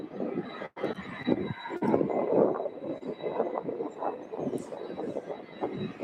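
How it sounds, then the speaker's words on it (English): An Atlas Air cargo jet at SDF airport gives off a steady, distant roar with gusty wind noise, and there is no talking. "Atlas Air Flight 5768, service to Dallas Fort Worth."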